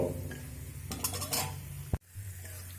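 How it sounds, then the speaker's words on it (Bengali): Cashews frying in a pan for a poha pulao, a soft sizzle with scraping and a clink of a utensil against the pan, then a quieter fizz. "কাজুটা দেওয়ার পরেও এক মিনিট মতো ভেজে নেব"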